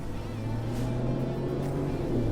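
Ford Bronco with a 2.7-liter twin-turbo EcoBoost engine, a steady close rumbling engine note that swells slightly as it revs, with no talking.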